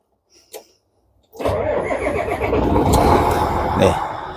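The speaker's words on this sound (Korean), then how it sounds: "시동 한번 걸어보겠습니다. 엔진 소리도 한번 들어보시기 바랍니다." A couple of faint clicks, then the large engine of a 2005 chemical fire pump truck with 14,400 km cranks and catches, settling into a loud, steady rumbling idle close by.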